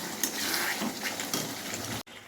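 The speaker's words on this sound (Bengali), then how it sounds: "এই যে মাখিয়ে এখন চিলি চিকেনটা কষানো হচ্ছে" Chili chicken frying in a soy-sauce spice masala, a steady close sizzle with faint stirring scrapes running throughout, cut off abruptly near the end.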